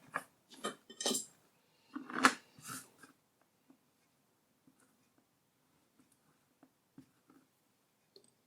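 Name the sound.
cutting a linocut block with a lino cutter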